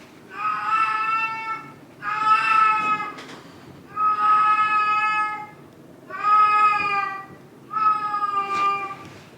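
A female cat in heat yowls and caterwauls in five long, loud, drawn-out wails with short pauses between them, close by with no talk over it.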